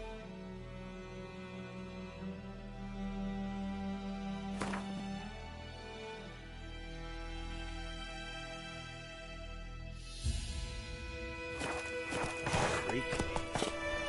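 Roach the horse gallops in The Witcher 3, with hoofbeats running under tonal game music. The galloping grows busier and louder in the second half, and a single spoken word is heard.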